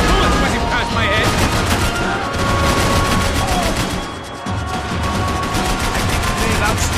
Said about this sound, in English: I can't concentrate when the bullet's whizzing past my head!